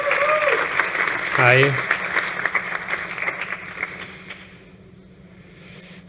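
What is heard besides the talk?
audience applause for a startup founder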